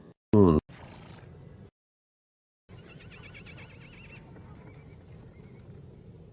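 A horse on the Mongolian steppe gives one short, loud neigh near the start, followed by steady low outdoor ambience broken by a brief silent gap.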